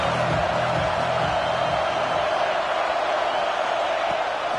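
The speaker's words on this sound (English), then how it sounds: "how nice is it to have the home crowd going absolutely bananas?" In the College Football 26 video game, the home stadium crowd at Alabama roars at full volume in a continuous wash of noise, with cheers and whoops rising from it and no breaks.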